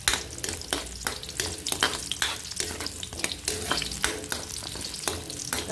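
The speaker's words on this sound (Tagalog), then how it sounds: "bago ako maggisa, iprito ko muna yung carrots" Carrots fry in hot oil, a loud continuous sizzle broken by frequent scraping stir strokes in a quick, uneven rhythm, close by and alone.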